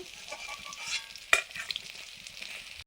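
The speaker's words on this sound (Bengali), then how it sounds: "এবারে চুনো মাছগুলো ভেজে নেব" Small chuno fish fry in a pan with a crackling sizzle and stirring scrapes, a sharp utensil clack standing out midway before the sound fades out.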